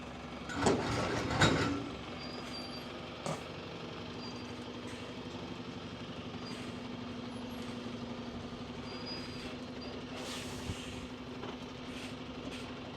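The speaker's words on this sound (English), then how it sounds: "works vehicles coming down. It's going to be noisy for a moment" Works vehicles coming down a village road at Cregneash on the Isle of Man, a steady low engine rumble with a brief louder clatter early on, passing at moderate distance outdoors.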